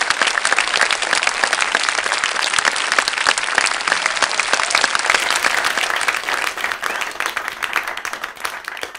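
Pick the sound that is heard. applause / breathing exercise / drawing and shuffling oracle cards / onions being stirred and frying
applause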